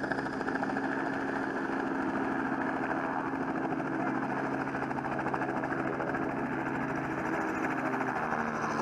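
A helicopter used for sightseeing flights runs with a steady, dense engine and rotor drone, loud and continuous with no talk over it.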